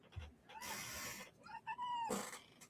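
A house cat makes strange, drawn-out yowling and warbling noises, close and alone, with rising and falling wavering cries between brief pauses.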